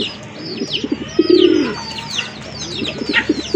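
A pair of large, very active red pigeons cooing repeatedly, with low throaty coos in short bursts close by, mixed with faint chirps from other birds in a loft.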